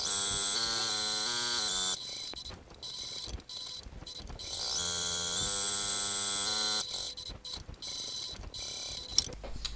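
A sewing machine stitching a handbag strap: steady rapid mechanical whirring and clatter with a motor hum, running in sustained bursts broken by brief stops, close and clear.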